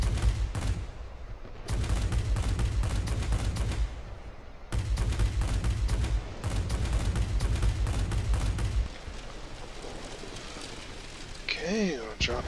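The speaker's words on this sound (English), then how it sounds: "cannons, which are great on ground targets" Rapid bursts of cannon fire from a Messerschmitt Me 329 attack aircraft in World of Warplanes, loud sustained strafing runs in several long volleys over engine drone, fading out before a short electronic warble at the end.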